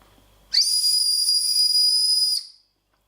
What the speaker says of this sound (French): si on le met dans la bouche, en fait, il siffle